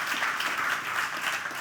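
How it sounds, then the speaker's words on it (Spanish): Brief burst of audience applause at a tenth-anniversary celebration event, steady dense clapping heard briefly and fairly quietly. "José, Juan, un aplauso muy fuerte para ellos"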